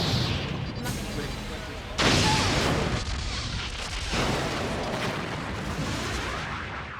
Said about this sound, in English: The Borg cube is firing.